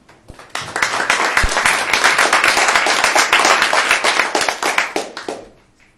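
A lecture audience applauds to welcome the speaker, with dense, loud, even clapping that lasts about five seconds and then fades out.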